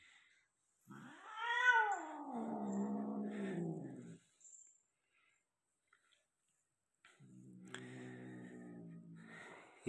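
A cat during mating lets out a long, rising and falling caterwaul, then goes quiet before a second drawn-out yowl starts up, fairly close and loud.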